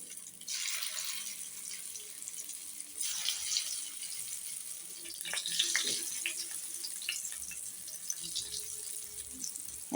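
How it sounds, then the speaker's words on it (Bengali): Lentil dhoka cakes frying in hot oil after potatoes give a steady close sizzle that swells in bursts as pieces are dropped in, with no talking. "এবার ওই তেলটার মধ্যেই এগুলো ধোকাগুলো ভেজে নেব ভালো করে।"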